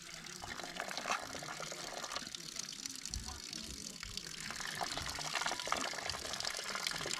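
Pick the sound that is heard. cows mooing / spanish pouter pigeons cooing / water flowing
water flowing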